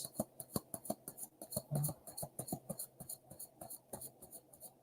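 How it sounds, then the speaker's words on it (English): Tarot cards are shuffled close up, with dense bursts of crisp flicking and riffling clicks in uneven clusters, fairly quiet, with no voices. "Oh, that was a good shuffle."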